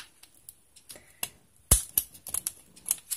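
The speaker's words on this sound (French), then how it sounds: "Ça abîme les ciseaux de couper les tiges de fleurs" Scissors snip through flower stems in a quiet room: a scattered series of short, crisp clicks and snaps, with one louder cut partway through.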